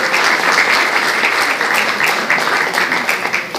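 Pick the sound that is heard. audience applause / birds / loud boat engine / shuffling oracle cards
audience applause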